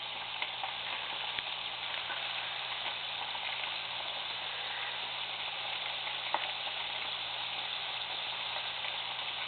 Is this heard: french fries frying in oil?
yes